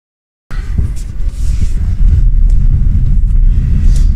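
A Lexus LBX on the move, with steady low road and engine rumble plus some wind noise building after a short silence at the start, continuous and fairly loud.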